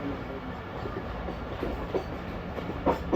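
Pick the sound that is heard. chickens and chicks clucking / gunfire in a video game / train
train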